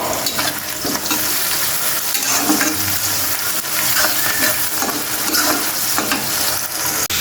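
Bitter gourd frying with onion and chili in a pan, a loud continuous sizzle with stirring scrapes throughout and no talk.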